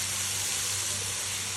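Ginger, garlic and onion frying in a pan give a constant, close, broadband sizzle over a low, steady hum, with no break.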